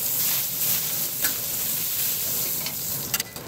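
Lobster with butter sizzles steadily on a BBQ grill, a continuous close frying hiss with small crackles throughout and no voices.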